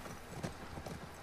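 Horse hooves clip-clopping in The Last of Us Part 2, a steady rhythmic run of close, moderately loud hoofbeats over a low background rumble.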